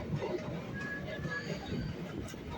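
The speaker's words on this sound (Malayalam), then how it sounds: "ഇത് കൊല്ലത്തുനിന്ന് വരുന്ന ട്രെയിനാണ്." Inside a Kollam to Ernakulam MEMU train running along the track, a steady rolling rumble with a rattling carriage, while a person talks over it.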